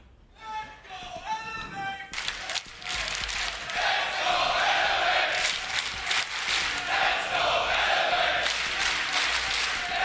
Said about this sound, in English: the crowd cheering for Elevate, finally back in this game